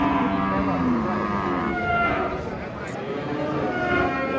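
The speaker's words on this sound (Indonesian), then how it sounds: "Sapi Crazy Bull" A cow moos in long, low drawn-out calls close by, over a steady background rumble.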